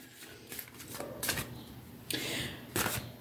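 Goddess Oracle cards being shuffled by hand in two separate bursts of quick riffling and flicking, close and crisp, with quiet pauses between.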